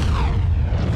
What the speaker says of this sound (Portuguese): Explosões do caraças